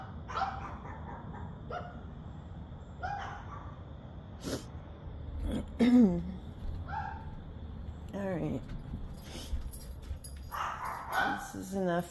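Two Pekingese dogs bark indoors in a house, sharp scattered barks and yips in bursts over a low background hum, with a person speaking briefly between them.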